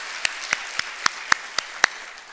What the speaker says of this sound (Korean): 우리 다시 한번 주님께 큰 영광의 박수 드리겠습니다.